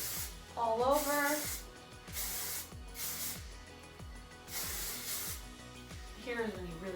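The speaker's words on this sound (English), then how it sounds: "It's time to start adding in our hairspray." Hairspray misted over curly hair in short, repeated hissing bursts, fairly soft, with a person talking and a blow dryer's hum in the background.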